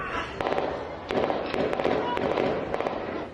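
Rapid bursts of sharp cracking gunfire ring out in several quick clusters during a night-time shootout, somewhat distant, heard from inside a home, over a low background murmur.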